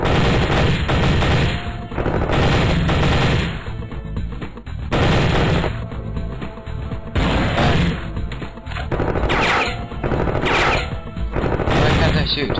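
Automatic gunfire in a Miniclip shooter game, aimed at terrorists, rattles in dense bursts through most of the stretch, broken by brief lulls.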